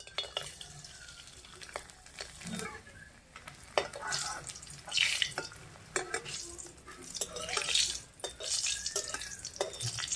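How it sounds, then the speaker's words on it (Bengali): Papad frying in hot oil gives a steady crackling sizzle with bursts of louder spattering and bubbling, close and continuous throughout, with no talking. "তেলটা গরম হয়ে গেছে আমি পাঁপড় এখন ভাজা নিচ্ছি"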